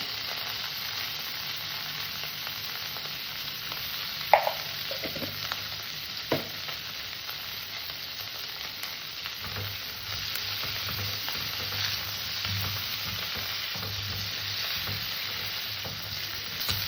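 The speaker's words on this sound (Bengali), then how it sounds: "আমার ফুলকপিটা ভাজা হয়ে গেছে" Cauliflower fries with turmeric in oil in a kadai, giving a steady, close sizzle that continues throughout, with a few brief clinks and stirring scrapes early on and a slightly heavier bubbling in the second half.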